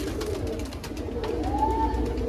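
Shanpuri kalsina pigeon cooing softly in a loft setting, a few low throaty coos over light background noise, close and alone.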